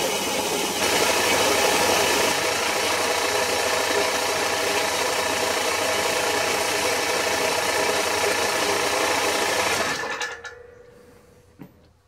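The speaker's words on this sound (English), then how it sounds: "we'll get over to the bandsaw and we'll make a start" A bandsaw grinds steadily through a hard block of aluminium bronze, a continuous rasping, whirring cut that holds for about ten seconds and then winds down, close by with no talking.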